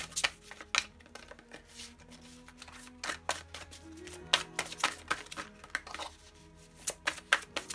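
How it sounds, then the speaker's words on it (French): Tarot cards are shuffled and drawn by hand during a love reading, giving a quick series of close, crisp flicks and slaps over faint low background tones. "Je vais prendre une dernière carte, s'il vous plaît."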